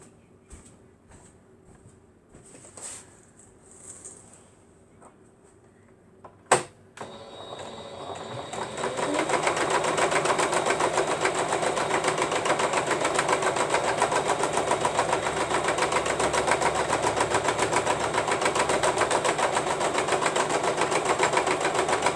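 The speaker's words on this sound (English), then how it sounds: "I can get my sewing machine right in this area" A sewing machine starts up after some quiet handling noises and then runs steadily at high speed, a continuous rapid whirring stitch that fills the rest of the clip.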